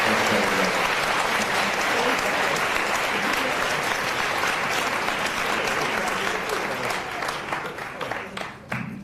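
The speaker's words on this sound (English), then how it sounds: "give a little bit of the clap that you're about to make" An audience at a university debating championship applauds the debate speakers, a thick, continuous roar of many hands clapping for about nine seconds, steady and loud before thinning slightly at the close, with faint voices beneath.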